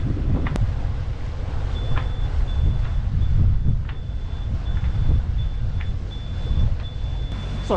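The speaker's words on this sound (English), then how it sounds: "Sorry about the collision alarm" A boat's collision alarm beeps in a regular repeating pattern of short electronic tones over wind and engine rumble while underway between Falmouth and Brixham, moderately loud and persistent.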